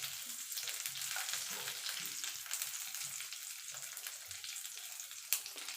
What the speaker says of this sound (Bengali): কাজু কিশমিশটা আমি হালকা করে ভেজে নেব। হালকা করে ভেজে আমি তুলে নেব।